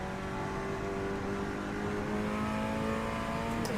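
Nissan Primera TCR touring car engine in a racing simulator, a steady loud drone with rising harmonic pitch as it accelerates through the gear, continuous and alone with no voices.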